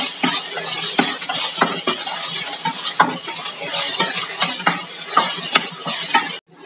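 Onions fry in a pan for a vada curry while a utensil stirs them repeatedly, giving a close, loud sizzle broken by rhythmic scraping strokes, with no voices.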